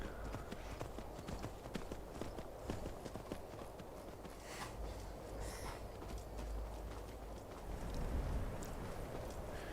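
Horse-drawn carriage hooves from the Skyrim video game, a steady clip-clop running through the whole stretch amid dense game ambience and a rumbling low background, with occasional sharper hits.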